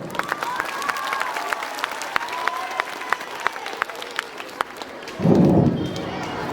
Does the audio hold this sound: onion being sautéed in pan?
no